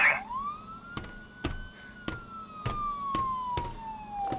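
A wailing police siren in the game Crime Simulator sweeps up and holds a long rising-falling tone, loud and close, with a series of sharp thuds and knocks landing at steady intervals underneath.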